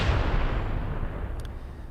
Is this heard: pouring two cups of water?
no